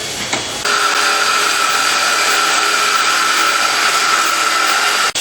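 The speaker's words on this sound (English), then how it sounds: "We're drilling holes and cutting metal." Power tools drill holes and cut metal brackets for a log cabin, a loud sustained whining hiss that starts abruptly after a brief quieter moment and runs steadily before cutting off at the end.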